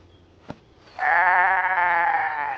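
A cartoon goat on a mountain pasture lets out one loud, sustained, wavering bleat after a brief click, heard close and alone.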